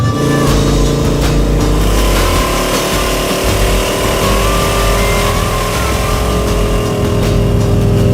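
A loud Jaguar engine runs continuously while driving, a steady rumbling drone with rising pitch as it accelerates through gears.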